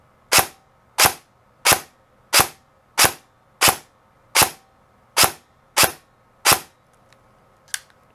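An airsoft M4 electric rifle fires ten sharp semi-auto shots at a steady, even rhythm of roughly one shot every seven-tenths of a second, each a crisp close snap, followed by a faint click.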